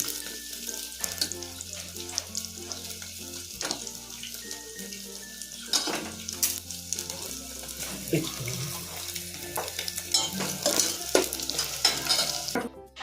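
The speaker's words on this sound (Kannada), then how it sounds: "ಚಲೋ ಫ್ರೈ ಮಾಡ್ಕೊಂಡು ಬ್ರೌನ್ ಮಾಡಬೇಕಿದೆ" Paneer and peas frying in oil in a pan for dhaba-style mutter paneer, a steady sizzle with spatula stirring and scraping throughout, under background music.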